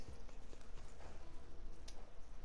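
Horse hooves clop in a video game, a quick, faint run of rhythmic hoof beats continuing for a couple of seconds with no talking.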